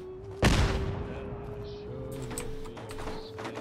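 A grenade goes off in Fallout 4 with one loud, sudden blast that quickly fades into a low rumble, followed by quieter clatter and distant shots.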